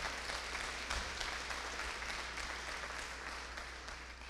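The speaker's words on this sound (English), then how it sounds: "Let's give them a round of applause for all their good work." A congregation at a funeral service in a church applauds with steady, diffuse clapping that holds at a moderate, slightly distant level throughout, with no speech over it.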